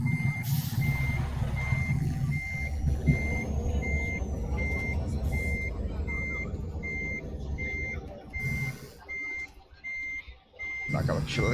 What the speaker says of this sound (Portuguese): Vou estacionar o ônibus ali no estacionamento.